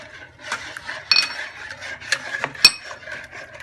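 A spatula mixes banana muffin batter in a bowl, making irregular close scrapes and soft taps with a couple of sharper clinks against the bowl.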